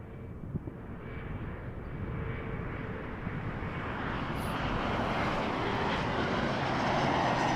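A Jazz RJ 900 regional jet at Toronto Pearson gives a steady, broad engine roar that builds slowly in loudness throughout, with no voices present.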